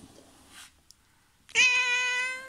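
A cat gives one loud, clear meow in a home, a drawn-out harmonic cry that follows a quiet stretch with only faint, brief noises.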